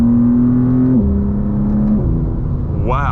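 A BMW G87 M2 engine revving hard through paddle-shifted gear changes, its loud, close drone stepping down in pitch at each shift about a second apart, then a rising whine climbing at the end.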